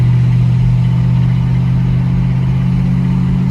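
A Chevrolet El Camino fitted with 3.73 gears cruises at moderate road speed, its engine holding a loud, steady low drone with road rumble and no gear changes.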